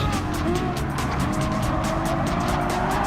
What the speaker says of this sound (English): Eric will send it on the Porsche driver.